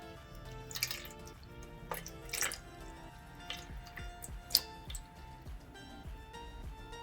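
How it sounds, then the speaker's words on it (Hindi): Water is poured with a little tulsi over a Vishnu idol while bathing it, giving soft irregular drips, splashes and trickles, fairly quiet and close, with background music underneath and no speech. "विष्णु को नहलाऊंगी, उनके लिए मैं इसमें एक तुलसी डाल रही हूँ।"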